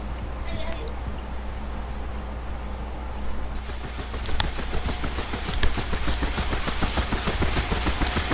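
A Huey helicopter in the DCS World flight simulator runs with a steady turbine whine, then rotor blades set up a rapid rhythmic chop that grows stronger, while someone talks over it.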